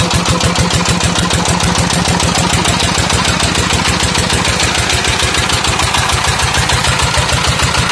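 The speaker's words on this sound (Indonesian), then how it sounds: "mesin dieselnya ini pakai merek NR ini" An NR 20 HP diesel engine running an Intan 6-inch volute water pump on a farm, pounding out a loud, fast, perfectly even thump close up, with no talking over it.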